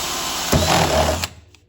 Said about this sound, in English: I'm gonna put very light pressure and just let the drill bit cut.